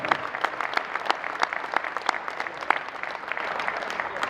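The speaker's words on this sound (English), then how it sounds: "Please give a big round of applause for James Sharman, Sportsnet, Soccer Central." Conference audience applauding a speaker's introduction at a soccer coaching event, a modest crowd with individual claps standing out crisply in an irregular patter, moderate and close, no speech.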